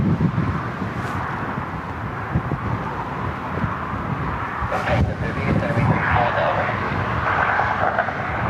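An Embraer E175 regional jet on Delta Connection, inbound from LaGuardia, passes as a broad steady engine roar with wind buffeting, rising slightly toward the end.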